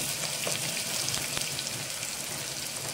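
Onions fry in a pan for mutton curry with a steady, dense sizzle that runs throughout, like close rain on a surface.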